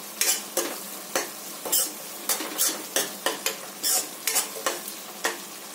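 Suran (elephant yam) sabji with red chili powder is stirred and fried in a pan, with a sizzle broken by a regular run of sharp scraping strokes from a spoon against the pan, close and distinct.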